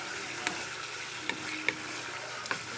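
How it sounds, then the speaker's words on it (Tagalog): Beef skin with ginger, garlic and onion is stirred in a sizzling pan for balbacua, a continuous frying hiss punctuated by a few sharp spatula clicks against the pan. "Halu-haluin lang siya."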